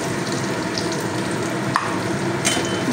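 Masala spice paste with onions and tomato fries steadily in a pan, a continuous close sizzle with a brief stirring scrape near the middle and no voices.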